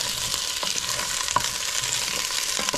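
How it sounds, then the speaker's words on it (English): Quartered onions go into hot, shimmering oil for a beef stew and are stirred, with a steady soft sizzle broken by a few brief scrapes of the spoon. "our oil's nice and shimmery, so we're just going to take our quartered onions and throw them right in there. Give them a little stir."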